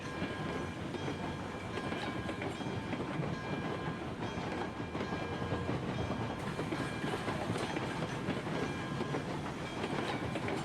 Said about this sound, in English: I think this little guy is gonna have a hard time pulling the train up the hill.